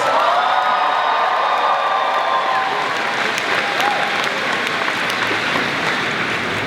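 Loud crowd applause with cheering and whoops at a university commencement, a dense continuous roar of clapping that holds steady throughout.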